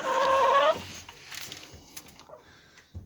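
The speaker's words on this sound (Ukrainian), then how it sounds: "Ще якийсь місяць часу буду приглядатися, щоб зайвих прибрати і лишити тільки оцього півника." A rooster and hens in a winter chicken coop give a brief loud call at the start, then soft clucking and rustling continue quietly in the background.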